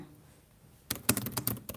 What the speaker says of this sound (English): I'm just typing up short stories today